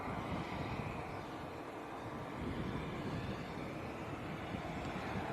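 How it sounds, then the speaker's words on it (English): A Cessna Citation 560 business jet just started up and running at Leeds Bradford Airport, a faint, steady, breathy engine rush heard from a distance, mixed with light wind. "So this citation that's just started up is registration is Oscar Kilo Charlie Uniform Sierra."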